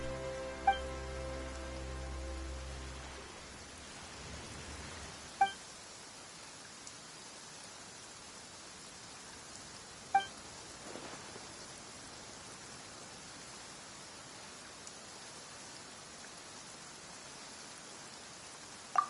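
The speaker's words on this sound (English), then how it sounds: "Why is it raining all of a sudden?" Steady rain falls in the video game Genshin Impact, a soft even hiss that runs throughout, with a brief musical tone at the start and a few faint clicks.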